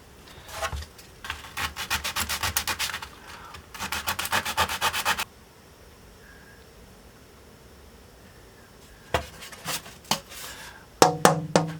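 Close-up hand work scalloping the wooden top braces of a guitar: bursts of rhythmic scraping and rasping strokes in two long runs, a quiet pause, then a few sharper scrapes and taps, with no talking.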